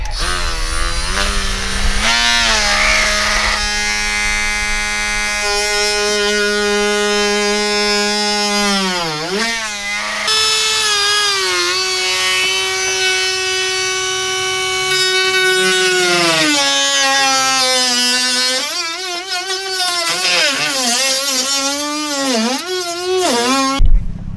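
A power tool cuts near the wheel well of a 2022 Lexus GX460 during a lift kit install, clearing metal so the tire stops rubbing. Its sustained whine runs the whole time, with the pitch repeatedly sagging and recovering as the cutting load changes.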